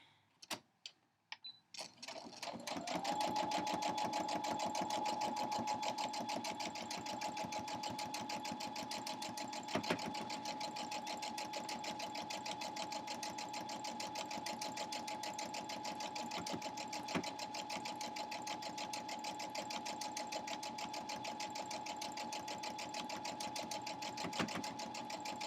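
A sewing machine stitches fleece with black thread top and bobbin, a steady close mechanical whirring hum that starts after a few faint clicks and runs continuously for over twenty seconds, with occasional small knocks.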